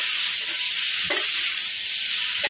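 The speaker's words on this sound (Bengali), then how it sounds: "মিনিট 2 সময় দিয়ে এটাকে ভালো করে একটুখানি মজিয়ে নেবো মশলার সাথে এঁচোড়টাকে" Jackfruit cooking with spices in a pan gives a loud, continuous frying sizzle, broken by a single scrape of stirring near the middle and another at the end, with no voices.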